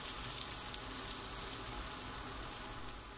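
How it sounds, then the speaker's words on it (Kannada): Eggplant (brinjal) slices frying in a little oil, a steady soft sizzle and crackle, continuous and fairly quiet, with no voices. "ಎರಡು ಸೈಡ್ ಫ್ರೈ ಮಾಡ್ತೀನಿ ಚೆನ್ನಾಗಿ"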